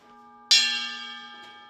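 A gong is struck once to open a repair café, giving a sudden bright clang that rings on and slowly decays over a faint background hum.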